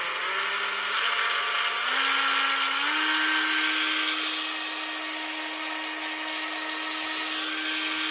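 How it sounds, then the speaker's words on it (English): SPTA mini rotary polisher running alone, a steady high-pitched electric whine that rises in pitch in small steps over the first few seconds as it speeds up, then holds constant. "little rotary polisher here"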